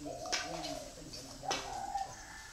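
A spotted dove coos nearby in a few soft, rhythmic phrases, with short pauses between calls.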